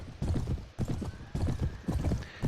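Galloping horse hooves pound in a rapid, rolling rhythm during a cavalry charge in the Warband mod A Clash of Kings, loud and close with a faint neigh among the beats.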